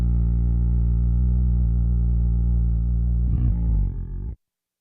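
A vocal bass line looped through a Boss RC-505 Mark II looper with effects: a deep, steady, buzzing low drone that holds for about four seconds, then wavers briefly and cuts off abruptly.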